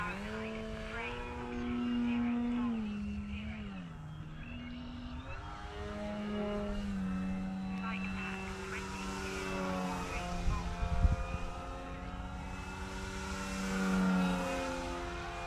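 A Skywing 55-inch Edge 540T RC aerobatic airplane cruises overhead, its propeller drone holding a steady pitch that rises and falls gently as it passes. The sound is distant and moderately loud under light wind, with no talking.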